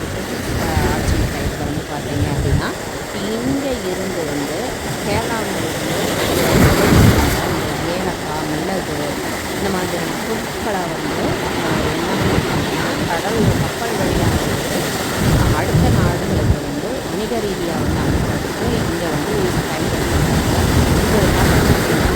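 Arabian Sea waves roll and wash onto Kannur Baby Beach, a steady, windy surf rumble heard mostly under someone talking close by.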